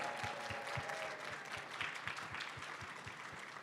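An audience at a closing ceremony applauds its volunteers, steady quiet clapping from a crowd with some fainter rhythmic thumps, fairly distant and continuous.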